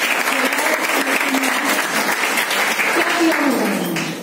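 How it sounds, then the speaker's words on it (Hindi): A large audience at a financial freedom talk in Vapi breaks into loud, sustained applause, dense and even throughout, with a voice faintly mixed in beneath the clapping. "ताली बजनी चाहिए।"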